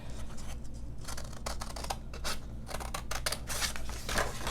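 Paper being cut with scissors for an Anna Griffin snow globe and Christmas bulb card project: a run of crisp, close snips and crunching cuts in quick succession, with no talking.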